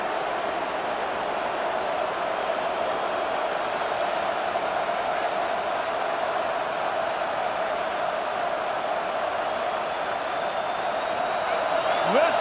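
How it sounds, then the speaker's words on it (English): A stadium crowd roars in an American football video game, a steady broad wash of cheering and noise holding constant throughout at high level, with a brief whoop near the end. "Listen to this crowd just shaking the girders of this place, trying to help their defense"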